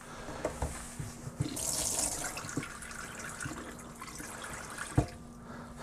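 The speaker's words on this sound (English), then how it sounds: "Can you hear the pump?" A steady low hum of a Bailey motorhome's small water pump priming, with running-water hiss and a few clicks and knocks, fairly close.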